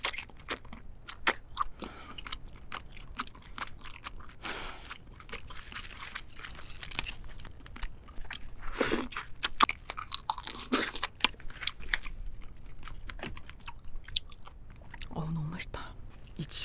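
Steady close-up crunching and chewing of Hanasaki king crab with mustard sauce, dense crackly bites of shell and meat coming in quick irregular bursts, with a little soft whispered talk mixed in.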